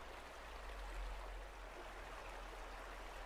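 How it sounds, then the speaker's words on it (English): Soft, steady rushing of a flowing stream in the Cradle Mountain area of Tasmania over a low rumble, continuous and fairly quiet, with no voices. "Very pleasant sound of the water"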